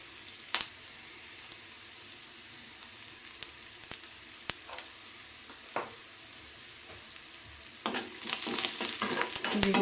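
Spices for oggarane, a tempering for a Mangalore cucumber buttermilk sambar, frying in hot oil. A faint steady sizzle is broken by sharp crackles and pops, then swells into a louder, denser hiss toward the end.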